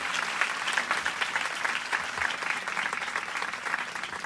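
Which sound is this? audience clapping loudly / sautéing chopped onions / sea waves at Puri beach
audience clapping loudly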